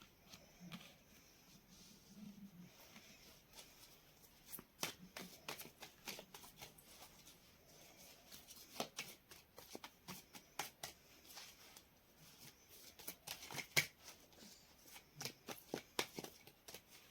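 Tarot cards are shuffled by hand, with soft papery riffles and sharp snaps repeating irregularly over several seconds, close but quiet in a still room, with no talking.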